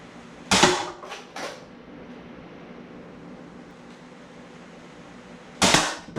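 Adventure Force Conquest Pro spring blaster firing short darts at 4-inch targets from 20 feet, three sharp snaps in quick succession followed after a quiet pause by a fourth shot, loud and close.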